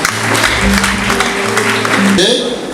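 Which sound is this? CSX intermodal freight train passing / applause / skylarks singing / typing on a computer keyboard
applause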